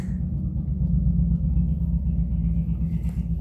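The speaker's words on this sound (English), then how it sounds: "I'm not sure if you can hear the motorbikes in the back and cars" Motorbikes and cars pass in steady traffic by a daycare pickup area, heard as a continuous low, fairly loud rumble with no clear single pass-bys.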